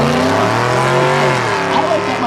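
A drag race launch between a '93 black Chevy and an '89 Ford Mustang: loud engines revving and roaring up close, pitch climbing and shifting as the cars pull away, under continuous background commentary.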